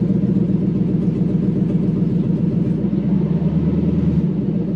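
A Toyota 1UZ V8 swapped into a KZN130 Surf runs at a steady idle up close, with a deep, even rumbling throb and a slight dip in the low end near the end.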